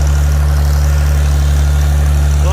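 A Farmall 756 tractor engine idles steadily and loudly up close, a constant low mechanical drone with firm harmonic throb and no break throughout.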